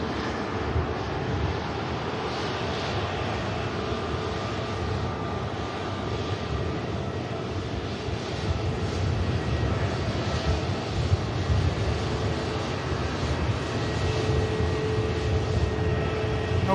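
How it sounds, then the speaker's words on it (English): A KLM airliner taxis at Manchester Airport, its jet engines producing a continuous broadband roar with a steady whine, fairly near and unbroken for the whole stretch. "Waiting on the KLM to come around the corner now."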